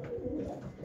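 Pigeons in a loft give soft, low cooing under faint background noise, a brief, steady murmur close by.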